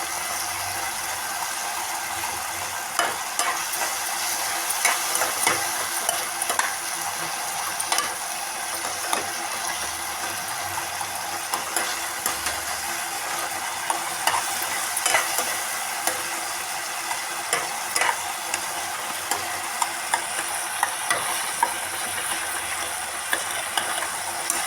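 Tomatoes with salt frying in a pan and stirred, a continuous close sizzle broken by frequent scraping and clicking strokes of the spoon for the whole stretch, with no talking.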